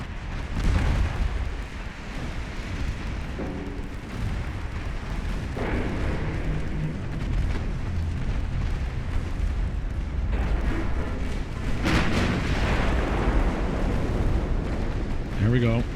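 Naval battle in a dreadnought-era warship strategy game, with torpedo and gunfire explosions booming repeatedly over a dense, continuous rumble, several sharper blasts standing out amid the din.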